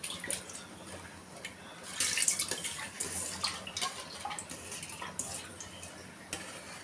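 Rice washed in a pot while cooking prawn biryani, with water splashing and swishing through the grains in uneven bursts, close and moderately quiet, with small clicks and drips between the pours.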